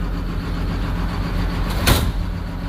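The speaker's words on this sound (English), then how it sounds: "Door keeps opening right there." A brief mechanical swish of a car hauler truck door opening, heard over a steady low engine-like rumble and background hum.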